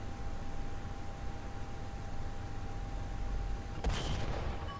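A T-34 E tank firing its cannon in War Thunder: a quiet, steady rumble gives way near the end to one sharp, loud blast that quickly fades.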